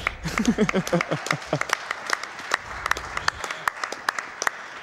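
A burst of clapping from a speedrun event audience, dense at first and then thinning into scattered individual claps that trail off.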